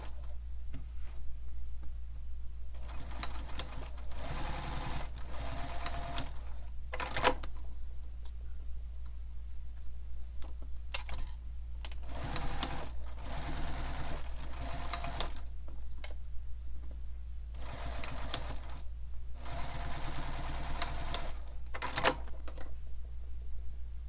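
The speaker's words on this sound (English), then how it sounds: "we're going to top stitch down each folded edge" A sewing machine top stitches down the folded edges of a sling pack, running in steady bursts of rapid mechanical ticking with short pauses between runs, close and clear over a constant low hum.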